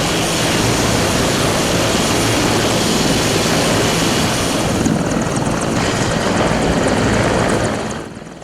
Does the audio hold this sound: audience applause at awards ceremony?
no